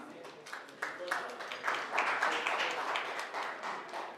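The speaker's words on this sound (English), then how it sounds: "Let's give him a round of applause, please." A crowd at a junior hockey player draft for U14, U16 and U18 teams claps for a newly named player, a steady, fairly quiet patter of hands lasting several seconds with some chatter mixed in.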